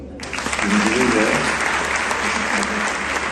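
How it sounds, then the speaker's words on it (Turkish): Loud applause from a crowd, dense clapping close by that holds steady throughout, with faint voices mixed in. "Bir de güzelliğine de bir alkış alalım."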